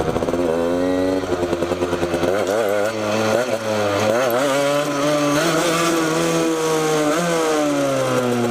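Motorcycle engine revving loudly and continuously close by during a solo ride with wheelies, the pitch rising and falling through repeated throttle swells without pause.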